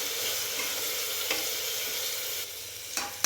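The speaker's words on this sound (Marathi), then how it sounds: "आता हे सगळं मसाला टाकून व्यवस्थित मिक्स करून घेऊया" Masala stirred into pumpkin curry in a hot pan, a close, steady sizzle broken by a few scraping strokes of a spoon, with no voices.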